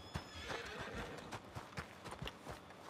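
Video game horse galloping up after being called, rapid clip-clop hoofbeats with a whinny, fairly close and quiet, no talk over it.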